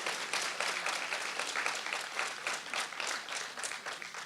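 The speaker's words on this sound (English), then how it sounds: "I think we can clap a little louder." A large conference audience applauds at a reentry event, dense sustained clapping from many hands filling the room, steady and fairly loud with no pauses.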